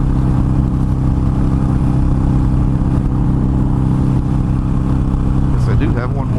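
Harley-Davidson Iron 883 motorcycle ridden on a winter day, its steady mid-pitched engine drone loud and constant throughout, with wind rush and a brief shift in tone near the end.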